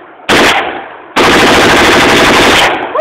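Bump-fired AK-47 or AR rifle fires in two loud, rapid bursts at close range, a short volley followed by a longer sustained string of shots.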